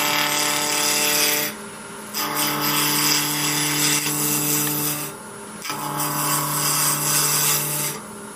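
A wood lathe spins at about 2200 RPM while a turning tool roughs out a bottle stopper blank on a mandrel. A steady tonal whine blends with a rasping cut that drops away briefly twice.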